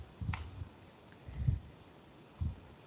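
Keys on a computer keyboard are tapped a few times, three soft, separate clicks spread over a quiet background.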